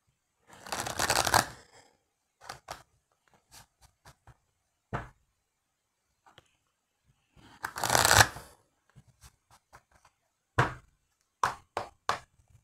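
Oracle cards shuffled and cut during a French horoscope reading for Cancer, heard as two long riffling bursts with scattered soft taps and card slaps between them, close and fairly quiet with no talking.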